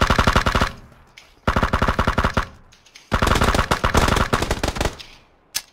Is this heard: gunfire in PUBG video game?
yes